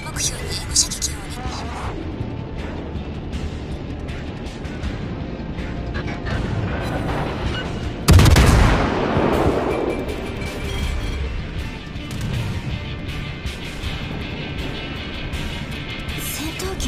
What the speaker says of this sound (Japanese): 射程圏内に入り次第砲撃を開始します。